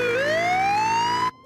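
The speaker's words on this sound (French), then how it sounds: "Écoutez, une ambulance." A cartoon emergency siren gives a single loud, smoothly rising wail that stops abruptly after about a second and a half, alone with no talking.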